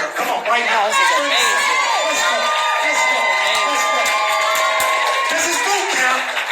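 An audience at an opportunity meeting boot camp in Atlanta cheers loudly throughout, with whoops and shouts layered over continuous crowd noise and voices.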